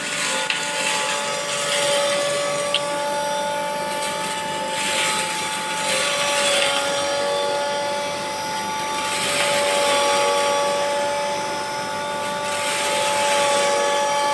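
An electric household flour mill (atta chakki) runs continuously with a loud motor whine and steady tonal hum. Its grinding roar swells and eases slowly over several seconds, and no one speaks.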